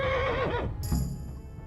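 In the video game Kingdom Come: Deliverance, a horse gives a loud, close whinny that falls in pitch, followed by heavy galloping hoof thuds.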